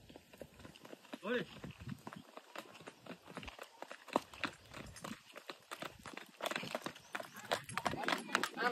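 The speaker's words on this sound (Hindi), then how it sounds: "देख रहे हैं आप ये घोड़े को" A horse walks at a religious street procession, its hooves making faint irregular clip-clops beneath people talking and crowd noise.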